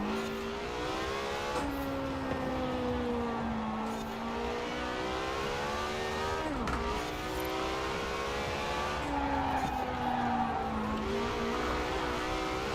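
A Lamborghini Huracan Performante in Forza Horizon 4 roars steadily, its engine note climbing through gears with brief dips at shifts, driven with an H-pattern shifter, loud and continuous with no talk.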